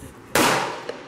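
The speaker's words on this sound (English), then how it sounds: "I'm gonna take my first shots with my 300 blackout." A single suppressed shot from a 300 Blackout rifle at an outdoor rifle range, a sharp loud crack that decays with a smeared echo tail, followed by a faint knock.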